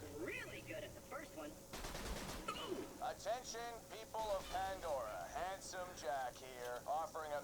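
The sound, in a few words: gun firing bursts of rounds in Borderlands 2 video game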